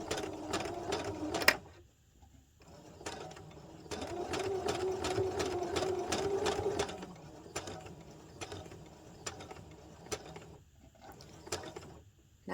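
A sewing machine stitches a fabric 3D face mask in short runs with brief back stitches, its rapid mechanical clatter starting and stopping several times, close and clear with no talk.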